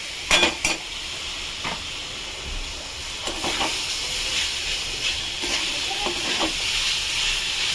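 A steady hiss of food frying in a pan for an oats dish, with a few sharp spatula scrapes of stirring, loudest near the start, close and alone.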